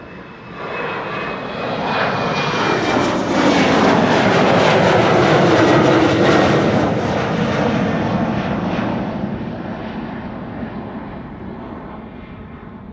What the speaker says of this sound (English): Embraer 190 to London City.